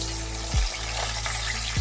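Bhetki fish head frying in hot oil, a broad steady sizzle filling the clip, with two brief low thumps and splashes as the pan or pieces shift.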